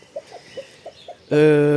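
Several soft, short clucks from Pekin bantam chickens in a dirty coop, spaced out at low volume, then a loud, sustained harmonic squawk or crowing call breaks in near the end.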